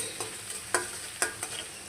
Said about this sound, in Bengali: তারপর একটু ভেজে লাল লাল করে নেব।